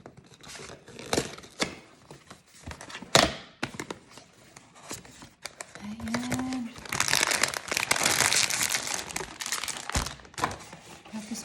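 Sealed Baby Three blind box packaging is opened up close, with a steady run of crinkling, tearing and tapping. The sounds swell into a dense rustle of plastic and cardboard toward the end.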